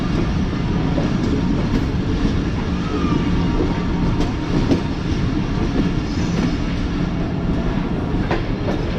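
Passenger train on the Tezgam route rolls steadily toward a platform in Jhelum, a continuous rumble with clickety-clack of wheels on rails, heard from inside the carriage.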